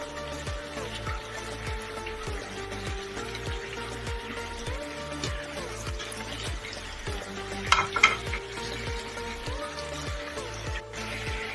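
Mutton stew masala with whole and broken chilies frying in a pot, a steady close sizzle under rhythmic, evenly spaced stirring scrapes that keep going throughout, with a brief clatter near the end and no voices.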